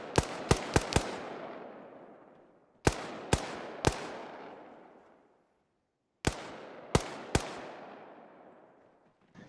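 Gunshots in the video game Arma 3 come in three clusters of two to four sharp cracks, each followed by a long rolling echo that fades out, with short quiet gaps between volleys and no voices.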